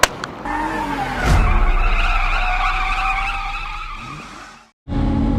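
A drift car's tires squeal in a long, loud skid on a race track during a street league drift event in Kyiv, with engine roar underneath, fading briefly to near silence before another car's noise bursts back in.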